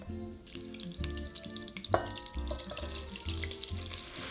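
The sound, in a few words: onions frying in melted butter in a pan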